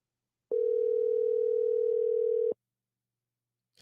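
A phone call rings out unanswered, one steady two-second electronic ringback tone, loud and clean, then silence.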